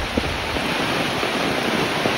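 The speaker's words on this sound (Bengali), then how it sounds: "তো বৃষ্টি আসতেছে" Rain pours over flood water in a flooded village, a steady broadband rushing hiss with some wind buffeting the microphone, constant and fairly loud without talk.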